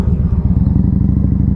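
A Victory Highball motorcycle engine runs steadily up close with a deep, rhythmic low-pitched throb and a constant pulsing loudness, without talk.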